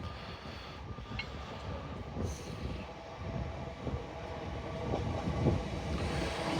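An LNER Azuma passenger train arrives at York station on the East Coast Main Line, a steady low rumble of wheels and carriages rolling in at moderate distance, with no voices.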